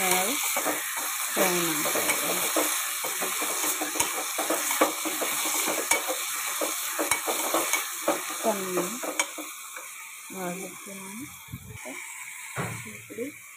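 Food frying and being stirred in a pan, with a continuous loud sizzle and frequent clinks and scrapes of a utensil against the metal, while a voice talks intermittently over it.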